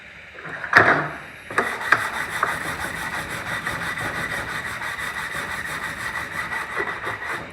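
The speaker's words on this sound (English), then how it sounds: "Just basically sand until that's all down nice and smooth." A car sill on a Vauxhall Meriva 1.4 Petrol is hand-sanded with 180 grit sandpaper. Rapid, continuous rasping strokes sound close and fairly loud after a couple of initial knocks.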